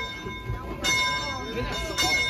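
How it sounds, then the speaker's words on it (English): The bell on an Edaville Railroad locomotive rings at an indoor train show, its steady metallic tone sounding beneath a busy crowd murmur and nearby voices. "Ring the bell first on this Edaville Railroad."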